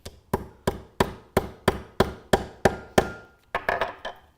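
A magnetic snap rivet is set on the concave side of a dot anvil with about nine light, evenly spaced hammer taps, each a sharp close knock with a short ring. A few quicker, softer taps follow.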